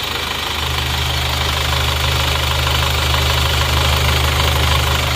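An Isuzu Panther diesel engine idles steadily after a rebuild, a loud, close, continuous low rumble with an even knocking pulse that holds unchanged for the whole stretch, with no voices.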